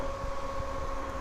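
The small motor of a cooling fan built into a worn vest gives a steady, close hum and drone throughout, with a constant tone and no voices.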